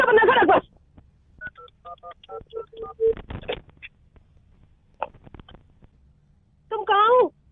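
A phone keypad beeps out a string of short, even dialing tones in quick succession, bracketed by brief bursts of a voice on a phone line.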